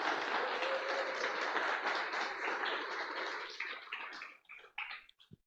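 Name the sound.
congregation applauding in church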